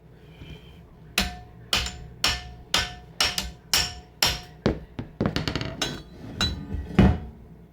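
A hammer strikes a metal part during snowblower repair, about a dozen sharp, ringing taps that start evenly spaced and turn into a faster cluster near the end, close and fairly loud.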